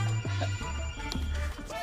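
A telephone rings with an incoming call, repeated tonal bursts with a steady warbling pattern, fairly close and clear with no talk over it, in a Hindi film scene.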